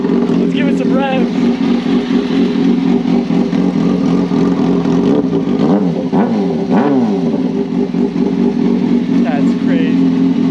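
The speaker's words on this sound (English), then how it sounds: "Let's give it some rev." A Kawasaki Ninja ZX6R with a custom exhaust idles loudly and close, then revs repeatedly, its pitch rising and falling in several throttle blips, with voices faintly underneath.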